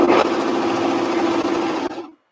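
A serger sews knit fabric with a continuous, close, loud mechanical whir and hum, steady for about two seconds before stopping abruptly.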